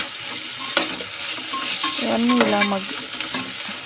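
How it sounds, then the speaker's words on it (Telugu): Mint and curry leaves frying in oil with a loud sizzle and repeated scraping stirs, close and busy, with a few brief spoken words. "కొద్దిగా పుదీనా, కరివేపాకు వేసుకొని బాగా మగ్గించుకోవాలి ఆయిల్లో"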